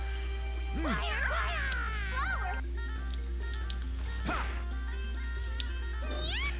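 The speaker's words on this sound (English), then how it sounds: "that cat is hitting me with a fish" Cartoonish cat yowls and meows swoop up and down over game music in Disgaea D2, with a few sharp smacking hits as the cat strikes with a fish.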